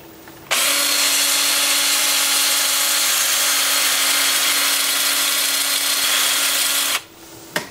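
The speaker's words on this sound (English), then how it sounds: "And then with the lathe spinning forward at about 350," A wood lathe runs forward at about 350 rpm with a loud, steady whirring drone. It starts abruptly after half a second and holds constant for about six seconds before cutting off near the end.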